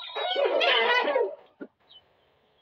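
Young pigeons call with a loud, warbling coo lasting just over a second, followed by a soft click and a faint, brief second call.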